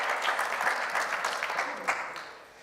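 An audience in a spiritual service gathering breaks into applause, a dense wash of clapping hands that swells briefly and tapers toward the end, moderately loud across the room.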